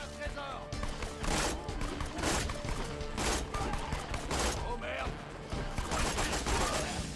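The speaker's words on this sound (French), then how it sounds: "J'aime pas trop en général ce genre d'arme qui tire à trap, trap, trap." Rapid gunfire from a weapon in the video game Borderlands 2, dense and continuous bursts of shots filling the clip at loud volume, with a voice talking over it.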